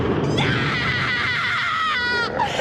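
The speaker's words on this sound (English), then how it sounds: "Paquita has a great horror movie scream." A woman lets out a long, piercing horror-movie scream in Dead Alive, loud and sustained for over two seconds over a rumbling film soundtrack.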